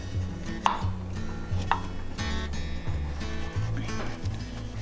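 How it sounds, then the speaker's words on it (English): A knife cuts thin slices from a watermelon radish on a board, giving repeated soft chopping taps at an uneven rhythm under low kitchen hum. "So I'm going to cut just very, very thin slices here."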